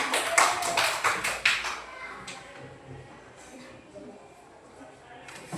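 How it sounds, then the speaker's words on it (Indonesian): Elementary schoolchildren in a grade 4 science classroom clap for a classmate's correct answer, a short burst of close, loud clapping that fades after about two seconds into quieter room noise. "Beri tepuk tangan."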